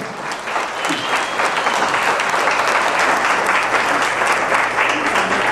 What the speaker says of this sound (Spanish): aplauso, que se escuche muy fuerte